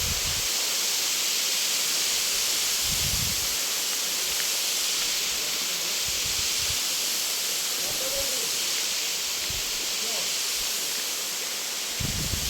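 A waterfall at the Sarisua water park gives off a steady, loud broadband rush of falling water that fills the whole scene, with a few brief low thumps and faint bits of voice underneath.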